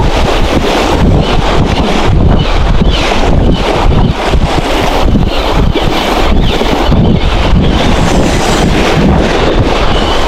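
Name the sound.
strong wind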